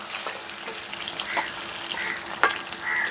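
Pangas fish sizzles in oil in a wok, a steady bright hiss with occasional sharper pops and a light scrape, close and continuous without talk.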